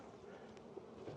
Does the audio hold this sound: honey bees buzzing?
yes